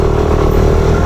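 Motorcycle engine running steadily up close while threading through heavy, hot weekday traffic, a continuous mid-pitched drone with no break.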